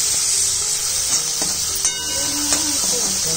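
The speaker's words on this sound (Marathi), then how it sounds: "आता मी बनवते फोडणीचा भात बनवते" Tempered rice with onion and tomato sizzles steadily in a pan, a close, continuous frying hiss broken by a few light clicks of stirring.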